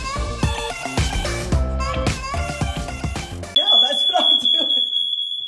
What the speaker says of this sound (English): we set off the smoke alarms while trying to cook our daily bacon